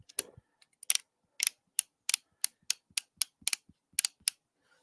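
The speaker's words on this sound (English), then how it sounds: "that was him clearing the chambers." A gun's chambers are cleared in a series of sharp metallic clicks, roughly a dozen crisp snaps in an uneven rhythm, close and alone against silence.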